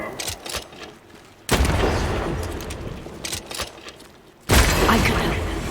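Gunfire aimed at a lantern in a video game: two sudden, loud volleys, each followed by a sustained, crackling rumble that slowly fades before the next burst.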